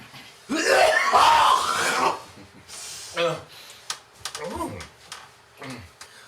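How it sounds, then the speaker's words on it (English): A loud, rough throat clearing lasting a couple of seconds, followed by a few shorter clicks and huffs close to the mic. "allow me to clear my throat"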